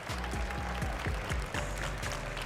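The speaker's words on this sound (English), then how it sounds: "please give them a round of applause" Audience applause at a live Teamfight Tactics Paris Open developer panel, steady clapping from a crowd filling the hall for a few seconds, with a faint sustained tone underneath.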